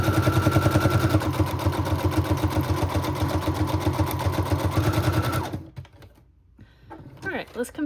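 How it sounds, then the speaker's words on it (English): A sewing machine stitches around the edges of a fabric recipe card pocket, a fast steady mechanical rattle for about five seconds that stops abruptly, followed by faint handling noises. "I am sewing at sort of an odd angle here."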